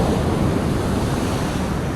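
Strong ocean waves on a beach in La Union, a loud continuous roar of surf mixed with wind buffeting the microphone, close and unbroken, no talking.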